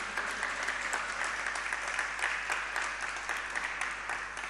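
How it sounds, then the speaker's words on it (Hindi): An audience at a Jain religious discourse claps steadily in a sustained round of applause, a dense, even patter of many hands with no voices over it. "एक बार जोरदार तालियां बजाइए इनके लिए।"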